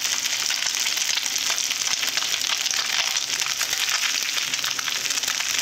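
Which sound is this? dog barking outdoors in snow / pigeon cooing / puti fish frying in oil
puti fish frying in oil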